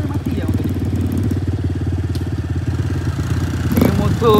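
An enduro motorcycle runs steadily with a throbbing, even engine pulse on a dirt track being prepared, close and fairly loud throughout, with a slight surge near the end.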